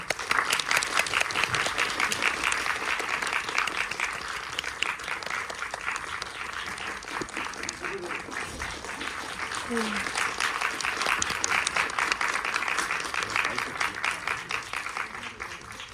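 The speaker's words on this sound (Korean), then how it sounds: "앞으로 나와주시면 큰 박수 부탁드리겠습니다" Warm applause from a film festival audience at the Jeonju International Film Festival welcomes actors forward for a post-screening talk, a continuous crowd clapping that swells and eases, with some voices faintly underneath.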